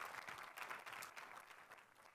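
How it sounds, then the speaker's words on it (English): An evening lecture audience at a college presidents' convening gives a round of applause, a dense spread of clapping heard fairly faint and steady throughout. "another round of applause for Donnell, please"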